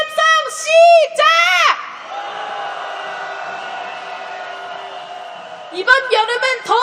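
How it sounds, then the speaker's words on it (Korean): A rally crowd calling for the impeachment of President Yoon Suk-yeol lets out a sustained roar of angry shouting, loud and broad, held for several seconds, with a voice speaking over the start and end. "윤석열을 향해 분노의 함성 시작."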